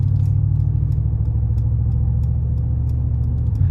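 Steady low engine rumble from a 2020 Mercedes-Benz AMG G63 on the move, a continuous loud drone heard from inside the cabin with no talking.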